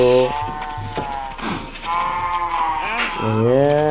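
Minecraft sheep bleat several times in short wavering calls, one at the start and another near the end, over a steady game background with faint talk.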